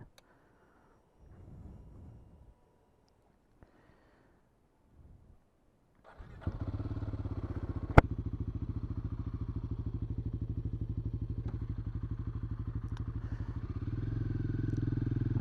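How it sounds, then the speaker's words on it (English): Faint clatter and shuffling give way to a Royal Enfield Himalayan 450 motorcycle engine starting and settling into a deep, throbbing idle with a burbling Zard exhaust, close and steady. "that Zard exhaust does sound quite nice"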